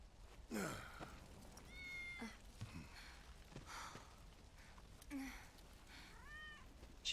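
A cat meows several times in Final Fantasy VII, short close mews and a rising call, faint over quiet background game ambience.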